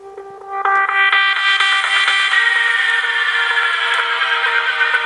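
Music plays through a homemade portable speaker driven by a phone and powered by a portable charger: a bright, steady melodic tone pattern with a thin, small-speaker sound, starting softly and then holding at moderate level.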